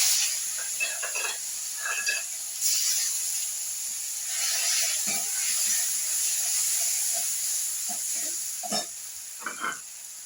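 Garlic sizzles in hot oil while a lata fish curry with spinach cooks, giving a steady close hiss broken by scattered clinks and scrapes of stirring.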